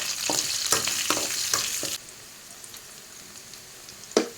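Onions and curry leaves frying in oil for tomato rice, several sharp bursts of crackling and stirring in the first two seconds, then quieter sizzle and one last clack near the end, close and without speech.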